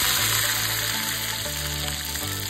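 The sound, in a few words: tempering spices sizzling in hot oil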